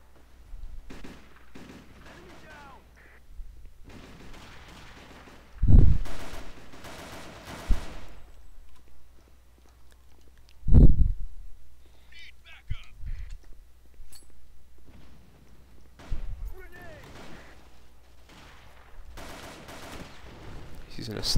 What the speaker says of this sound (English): Using a sniper.